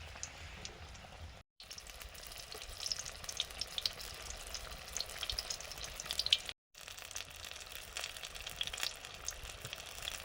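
A vegetable chop made with beet and carrot, its filling packed into a tomato shell, frying in hot oil with a steady close crackling sizzle and scattered pops, briefly cut out twice.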